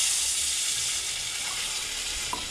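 Water being poured into fish masala frying in a pan, producing a loud hissing sizzle that gradually settles, with a faint clink near the end.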